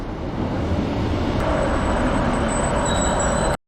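A Manchester Road train rumbles into Bolton station as a steady, loud, close-up roar, with a faint whine rising partway through.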